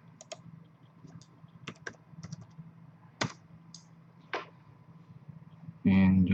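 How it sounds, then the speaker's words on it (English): Scattered keystrokes on a computer keyboard, a few irregular clicks spread out over several seconds, fairly close, with a louder burst of talk at the end. "Go ahead and type in live."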